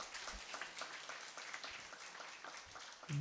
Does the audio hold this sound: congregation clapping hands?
yes